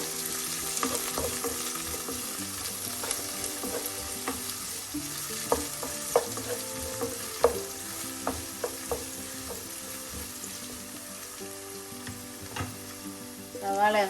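Chopped onion sautéing in a pan for a tomato ozhichu curry, with a steady bright sizzle running throughout and repeated clinks and scrapes of a spoon stirring against the pan, close and fairly loud.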